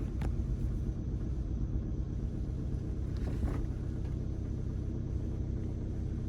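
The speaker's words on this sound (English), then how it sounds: "So if I just turn the vehicle on," Engine of a Tribute T720 vehicle idling steadily after being switched on, a continuous low rumble with a faint brief transient near the start and another partway through, no talking.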